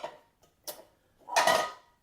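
Green Pan cookware pots and pans being handled, with a few short clanks and knocks spaced apart and then a longer scraping clatter, all close by.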